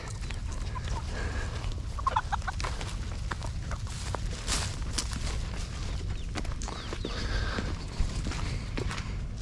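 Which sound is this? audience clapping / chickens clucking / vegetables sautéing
chickens clucking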